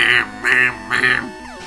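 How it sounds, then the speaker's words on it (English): Pokémon's Tri Attack move: three quick, buzzy electronic bursts in a row, each a warbling synthetic tone, followed by a short falling beep; a retro game attack effect. "Oh god, Tri Attack. That sound is so weird."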